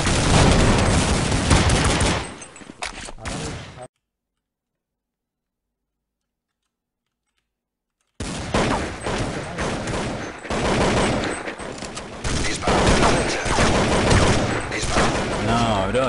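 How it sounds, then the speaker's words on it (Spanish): Rapid gunfire in Counter-Strike, loud dense bursts filling the opening seconds, then a few seconds of total silence before heavy sustained shooting resumes until the end. "Disparad en la brecha."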